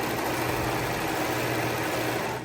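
An overlock sewing machine running steadily at constant speed while chain-stitching a fabric edge, giving a dense, even mechanical whir with no pauses, close and fairly loud throughout.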